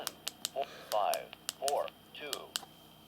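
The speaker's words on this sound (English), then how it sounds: "just type it out on the keypad" Keypad buttons pressed one after another on a Radtel RT860 radio, sharp plastic clicks in an uneven rhythm, several followed by short electronic beeps, with a voice speaking between the presses.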